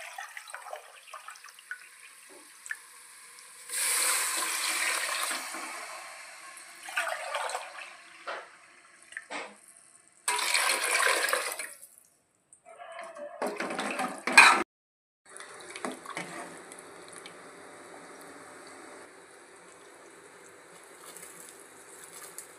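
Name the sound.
water being poured onto rice for chicken pulao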